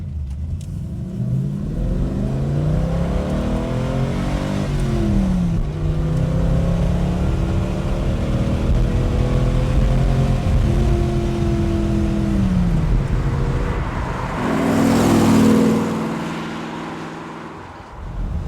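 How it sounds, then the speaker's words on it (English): A Maserati Bora engine, loud and close, revs hard as the car accelerates up through its dogleg gearbox, pitch climbing and dropping with each upshift and one sharp rush near the end. "There's so much torque there that when you change up from second to third, third to fourth, it gives you a real kick in the back."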